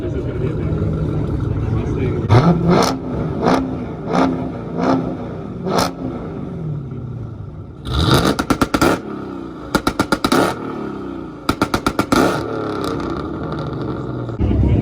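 A loud car engine idles roughly and revs, a throaty rumble swelling and dropping, then sharp rapid staccato bursts; people talk over the noise close by.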